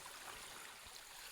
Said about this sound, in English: I wonder if this was always a stream like that